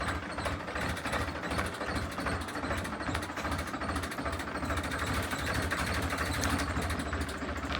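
A tractor engine runs steadily at a constant, droning level with a dense mechanical rattle, holding close and even throughout with no voices.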